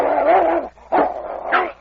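A dog barks close by in a snowy frontier setting, giving a few loud, rough barks with short gaps between them.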